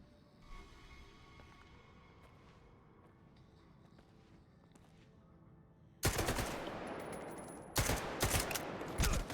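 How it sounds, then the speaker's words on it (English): Gunfire in the STALKER 2 video game from a gun that keeps jamming: faint shots and shuffling steps at first, then loud bursts of automatic fire that cut off abruptly with a short gap between volleys. "this gun keeps jamming"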